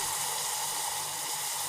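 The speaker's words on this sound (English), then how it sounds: "you have to add half cup of water in the caramel" Half a cup of water poured into hot caramelized sugar for a Christmas fruit cake gives a steady, close hissing rush that holds without a break.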